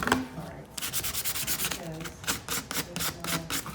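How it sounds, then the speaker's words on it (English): A cloth rubs Golden Rule wax around the edges and details of a distressed picture frame, making a close, rapid series of dry scrubbing strokes in an even rhythm. "I'm using the Golden Rule wax here, just kind of around the edges, on the details"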